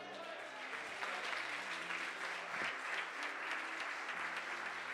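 A church congregation applauds steadily during a worship service, the clapping dense and sustained throughout with a low sustained musical tone underneath.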